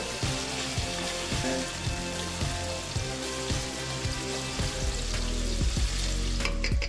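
Yellowtail fish bones deep-frying in hot oil, a steady loud bubbling sizzle with repeated crackling pops and stirring knocks throughout.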